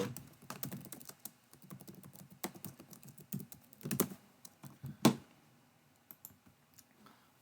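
Fingers tap a computer keyboard in quick, irregular bursts of clicks, fairly close and quiet, with brief pauses between runs of keystrokes.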